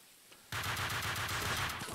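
Gunfire in Max Payne 2 bursts in abruptly after a near-silent lull, then keeps up as a continuous rapid automatic volley.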